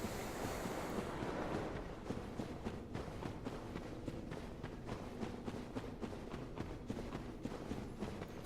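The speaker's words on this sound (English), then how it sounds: "The waves echo and call." Echoing ocean waves in a Dark Souls mod game, a steady roaring wash of surf with wind-like hiss that fills the scene continuously and evenly, with no talking.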